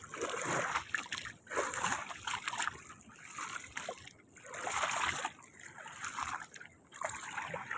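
Sea waves splashing and washing in along a shore, rising and falling surges of water with a steady hiss, fairly close and continuous.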